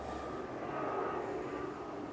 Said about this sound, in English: There's a ton of planes coming through here